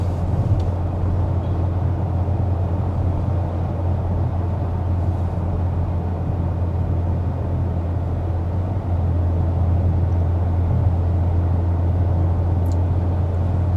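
Steady, low road and engine rumble fills the cabin of a 2025 Acura MDX Type S with a 355 hp engine cruising at 55 mph. The drone is even and continuous throughout, with no voices.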